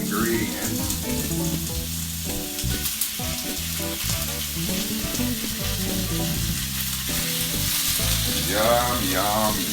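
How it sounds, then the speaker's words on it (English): Carnitas meat sizzles and sears in a hot pan, a steady, close frying crackle with occasional stirring scrapes, heard alone without talk. "I want it to sizzle just a little bit, to sear, before I add the rest of the ingredients."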